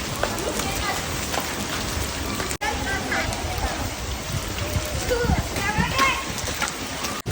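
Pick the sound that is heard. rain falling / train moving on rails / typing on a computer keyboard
rain falling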